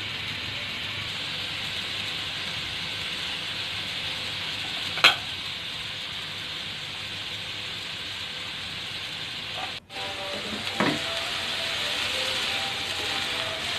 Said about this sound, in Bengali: মাছগুলো আবার নেড়ে চেড়ে দিলাম